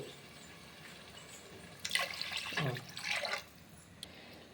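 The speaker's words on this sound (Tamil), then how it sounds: "2 டம்ளர் அரிசி வச்சுருக்கிறோம், 2 கப் தண்ணி ஊற்றிக்கலாம்." Water poured from a cup onto two tumblers of rice in a pot: one close, soft splashing pour lasting about a second and a half, with near silence before and after.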